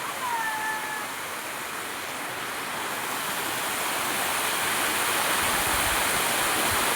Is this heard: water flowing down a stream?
yes